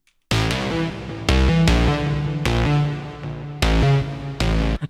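A dry synth lead with heavy low end plays a run of loud, sustained chords or notes in FL Studio with no effects added, starting abruptly after a short silence and heard alone.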